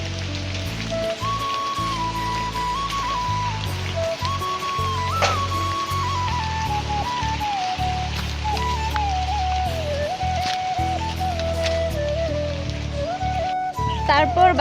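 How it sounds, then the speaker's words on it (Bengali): Heavy rain pours steadily over open farmland, a dense constant hiss through the whole stretch, with a voice talking over it throughout. "বৃষ্টি জোরে আসছে পুরো।"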